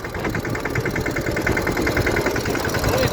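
A tractor engine runs steadily close by with a rhythmic knocking throb and rattling vibration, holding an even idle-like chug throughout.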